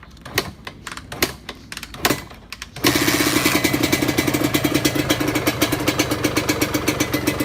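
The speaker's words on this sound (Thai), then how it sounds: "เสียงรอบเครื่องนิ่งๆเลยนะ" Honda MTX 125R motorcycle engine settles into a steady idle after a few rough revs, with a fast, even putter that stays close and fairly loud with no talk.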